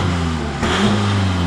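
A 600 hp Seat Ibiza TDI running nitro accelerates, its diesel engine a loud, sustained close-up roar with the pitch climbing slightly partway through.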